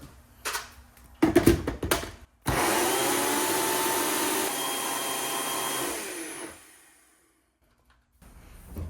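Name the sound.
NutriBullet blender blending cilantro and green onion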